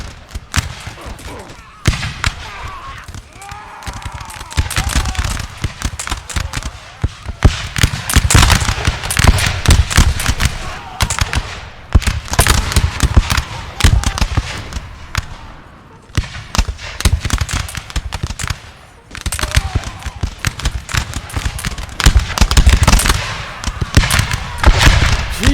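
Continuous musket volleys from a Napoleon Total War battle, dense loud crackling and popping bursts rolling on without pause for the whole stretch, with no voices over them.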